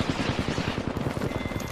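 Rapid automatic gunfire in the shooter Apex Legends rattles in a steady, close, loud stream of evenly spaced shots with no pauses.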